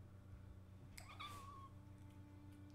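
A single short, quiet cat meow rises and falls briefly over a low steady hum in The Last of Us Part II, distant and faint.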